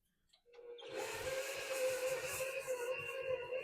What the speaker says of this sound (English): put this big boy on the mixer, attach our paddle, lock in the bowl, and we want to beat this together until it's creamy